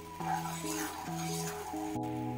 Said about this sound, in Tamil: இப்ப நல்லா கொதிச்சிட்டு இருக்கு பாருங்க.